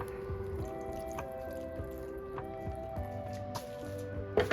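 Water added to dry sphagnum moss in a bowl gives soft drips and wet squishing sounds, close and fairly quiet, with a steady background tone underneath.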